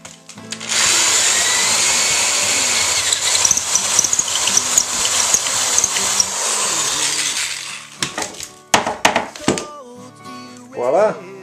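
Electric drill boring holes through a painted guitar body for a Stratocaster, a steady close whirring grind for several seconds before stopping, followed by clicks, handling knocks and brief squeaky sounds.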